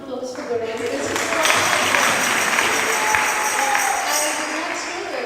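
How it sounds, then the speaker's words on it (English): An audience in a temple hall at a Sunday program breaks into applause, a dense clatter of clapping that swells after a moment and carries on beneath a speaking voice. "Please give a round of applause for Gaurav."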